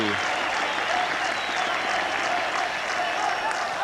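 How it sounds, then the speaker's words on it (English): Steady, dense applause from a large crowd at a cricket match, marking a half century, fills the air, sustained and even throughout. "Extra applause because the half century comes up"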